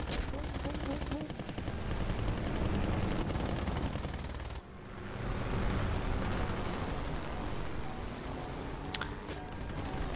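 Rapid machine-gun bursts and heavy gunfire crackle nearly nonstop in a War Thunder battle, loud and dense, with a brief lull midway before the firing resumes.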